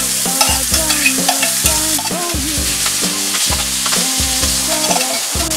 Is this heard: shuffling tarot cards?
no